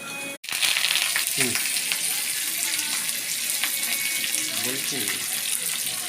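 Garlic, curry leaves and onion fry in hot oil for a corn usal, giving a loud, steady close-up sizzle after a brief knock at the start, with faint snatches of voice underneath.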